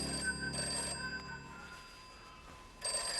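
An old landline telephone rings in a sitcom home, two quick electronic bell bursts close together, a pause filled with faint room noise, then another ring starting, steady and fairly loud with no voices over it.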